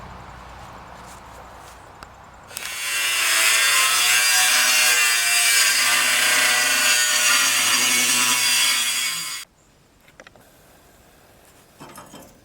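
A sheet of steel being cut for a gas tank: a loud, steady rasping cut starts abruptly, runs for about seven seconds and stops sharply, with quieter handling noises before and after.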